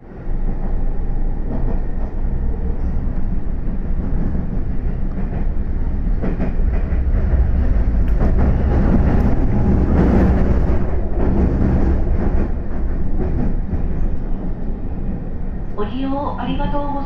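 A Japanese local train rumbles along the tracks toward Nara, heard from inside the carriage, with a steady loud roar and faint rhythmic clatter that continues throughout.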